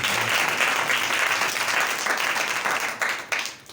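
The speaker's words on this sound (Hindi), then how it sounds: "जोरदार तालियां खुदावंद के लिए।" A church congregation breaks into loud, sustained applause that fills the room, the dense clapping fading out near the end.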